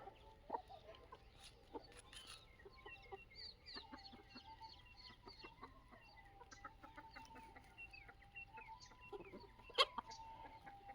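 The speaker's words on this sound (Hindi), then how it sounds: "ये मुर्गी आवाज़ कर रही है अंडे देने के लिए, बहुत तेज़ आवाज़ कर रही है" A desi free-range hen on a poultry farm clucks loudly before laying an egg, a run of sharp, fairly faint calls over quiet farmyard background with a few sudden louder squawks.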